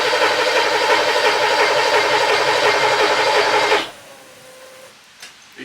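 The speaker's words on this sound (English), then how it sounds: "So I'm going to turn the key. Let's see what it does." A Porsche 928 engine cranks and catches after a key turn, running loud and steady with a dense mechanical roar close by for several seconds before cutting off abruptly, leaving near silence with a brief faint knock.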